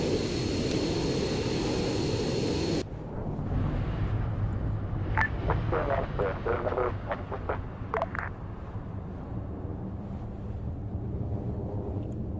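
A fixed-wing aircraft engine drones in a combat video game set on an Iranian front, a loud steady roar with wind noise that drops abruptly, then continues under scattered sharp impacts.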